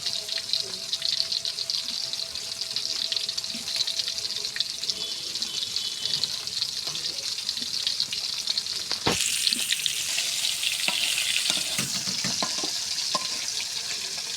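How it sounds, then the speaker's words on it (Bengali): Eggplant frying in hot oil in a pan makes a steady, close sizzle for the whole stretch, with a sharp clatter near the middle and a few more knocks and stirring noises after it. No one speaks. "বেগুনও ভাজবো বেগুন ভাজার জন্য একটু পাওয়ায় তেল দিলাম"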